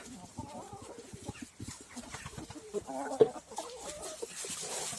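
Village hens cluck and murmur nearby in a busy, overlapping chorus of short calls, with one sharper squawk standing out midway through.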